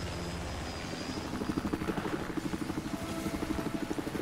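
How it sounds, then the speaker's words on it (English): A helicopter in Battlefield 4 on the Hainan Resort map keeps up a steady rotor chop with a rapid, even thump, close and continuous. "the chopper landed everyone at B"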